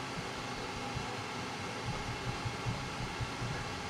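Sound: Flashforge 5M Pro 3D printer running with door open

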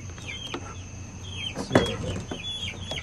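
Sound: chickens clucking

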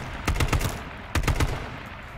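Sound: gunfire in video game H1Z1

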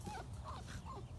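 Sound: puppies whimpering and crying

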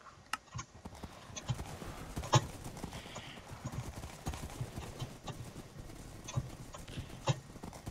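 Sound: horse hooves clip-clopping in Minecraft horse riding game

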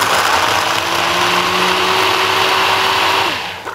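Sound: grinder blending soaked dates

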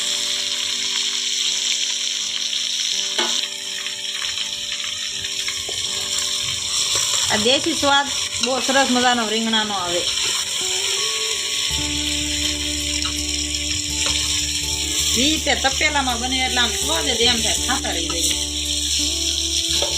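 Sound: brinjal (eggplant) frying and being stirred in a pot

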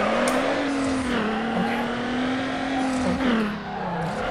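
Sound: Subaru car drifting in video game Need For Speed Underground

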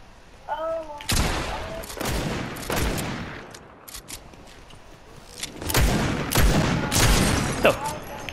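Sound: SMG gunfire in the video game Fortnite

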